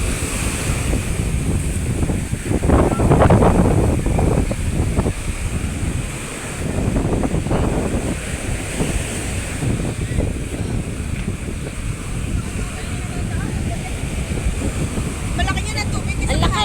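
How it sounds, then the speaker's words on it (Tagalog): Rough surf surges and crashes against the shore amid strong wind buffeting the microphone, with voices under the roar. "Ang galit na galit pong along"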